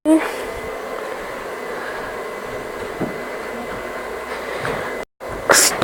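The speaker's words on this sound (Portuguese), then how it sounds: "Daí ela tá usando agora o secador pra secar." A hair dryer blows steadily while a freshly bathed dog is dried indoors, a constant whooshing whine close by that cuts out briefly near the end before returning, with talking underneath.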